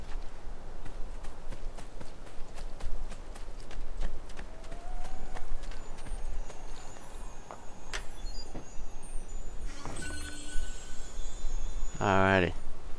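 Hooves of a horse in Assassin's Creed 2 give a steady, even run of clip-clop beats through the whole stretch, with game effects and a short burst of other in-game sound near the end.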